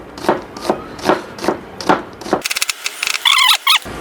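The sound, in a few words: knife chopping onion on wooden board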